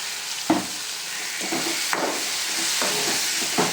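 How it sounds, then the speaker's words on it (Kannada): Tomatoes with tamarind and salt sizzle in oil in a pan for chutney, a steady close frying hiss broken by several soft scraping stirs at irregular intervals. "ಉಪ್ಪು ಜೊತೆ ಟೊಮೊಟೊನೂ ಇಲ್ಲೇ ಫ್ರೈ ಆಗಬೇಕು"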